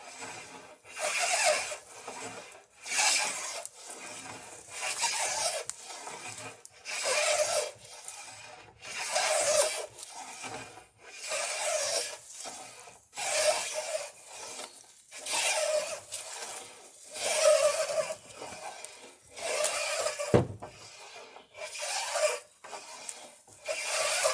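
Hand tool rasping and shaving along a wooden boat mast to round it, in a steady rhythm of repeated strokes with short gaps between them, close and clear with no talk.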